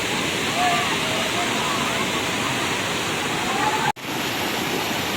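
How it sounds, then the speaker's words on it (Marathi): Anandwadi waterfall near Neral gushing and splashing, heard as a loud, steady, close roar of falling water that continues throughout with only a momentary dropout near the end. "इथे तुम्ही पाहू शकता पाण्याचा मस्त खलकडाट आपल्याला ऐकायला मिळतोय"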